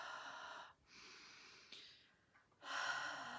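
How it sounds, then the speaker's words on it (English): Deep, slow breaths drawn in and let out during a guided meditation exercise, two long airy inhales or exhales separated by a quiet pause, close and moderately soft with no talking. "And breathe."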